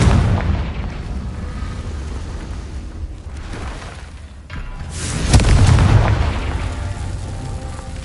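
The Confringo blasting curse goes off in Hogwarts Legacy, a loud low booming explosion swelling midway through a steady rumbling roar of spell effects, with no talking.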